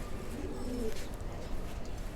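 Silver pigeons cooing close by, soft low rolling coos repeating over a steady background murmur.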